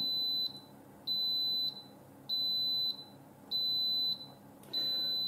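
An electric pressure cooker signals that cooking is done with a series of four or five evenly spaced, high-pitched electronic beeps, each lasting about half a second, faint over a quiet room.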